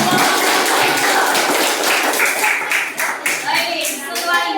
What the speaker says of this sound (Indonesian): Ya, tepuk tangan untuk kelompok transformator.